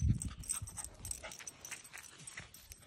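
Puppies whimpering and yipping while playing outside, quick high-pitched whines and pants close by, with brief scuffling at the start.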